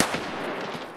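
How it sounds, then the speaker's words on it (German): Gunfire in the video game Escape From Tarkov, a dense, noisy burst of shots with a sharper crack near the start and sustained rattling through the second. "Aber Schüsse von links."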